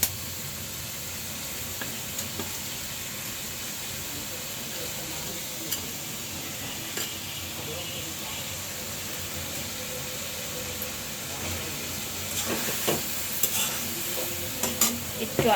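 Chicken pieces frying in a pan, a continuous close sizzle with stirring scrapes and clinks of utensils against the pan that grow busier toward the end, no speech.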